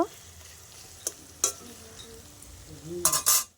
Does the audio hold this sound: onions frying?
yes